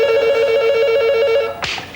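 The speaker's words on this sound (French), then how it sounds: "Donc ça, c'est Pascal qui téléphone." A telephone rings in a fast, warbling pulse, loud and close, in a mid-1990s French television advert. The ring stops abruptly, followed by a brief clatter as the handset seems to be picked up.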